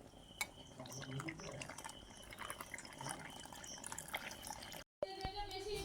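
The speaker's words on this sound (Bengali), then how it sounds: "এখন এই যে জল দিয়ে দেব মানে গরম জল" Hot water poured into a container to mix food for a 15-month-old child, a steady watery pour that runs for several seconds, briefly cuts out, then resumes close by.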